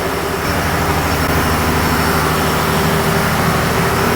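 A ship's 2,500-horsepower main engine runs in the engine room, a loud, steady, continuous low droning rumble with no breaks and no voices.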